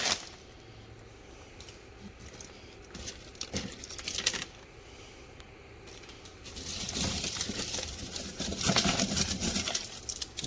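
Small shredded pieces of aluminium scrap cable clink and rattle together, sparse metallic taps at first, then building into a denser, louder jingling shuffle up close.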